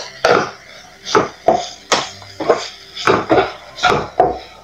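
A spoon scrapes and knocks against a cooking pot as dried anchovy is stirred, with about ten distinct clattering strokes in an irregular rhythm, close and fairly loud with no talk.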